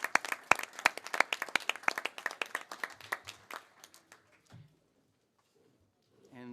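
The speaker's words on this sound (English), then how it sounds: "I would like to ask you an applause for the Dutch delegation and for the start of this session." Clapping at a formal annual session in The Hague honours the Dutch delegation, sharp distinct hand claps from a small group that thin out and fade to silence halfway through, with a faint voice at the very end.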